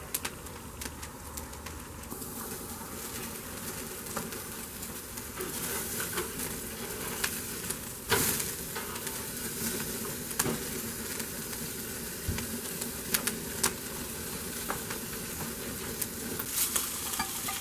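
A sous vide steak sears over a constant, bright crackling sizzle that fills the whole stretch. A few sharper pops and a faint steady hum sit beneath it, with no talk.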